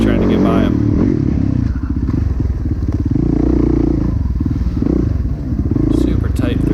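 A 450 dirt bike engine races through a tight section of an off-road race, its loud, close engine note rising and falling continuously with revs.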